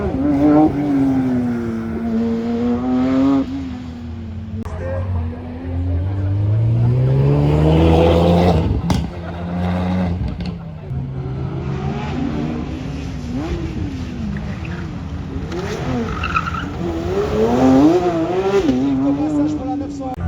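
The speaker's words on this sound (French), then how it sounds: "Encore une belle GT3 devant vos yeux." A GT3 sports car drives past at a Swiss road rally, its engine note rising and falling as it accelerates, with a second engine sweep following; someone talks over much of it.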